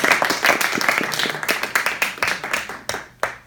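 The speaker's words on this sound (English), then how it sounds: "Can we give her another round of applause?" A small audience claps for a speaker at an evaluation session, sparse distinct claps that thin out and fade over a few seconds, fairly close.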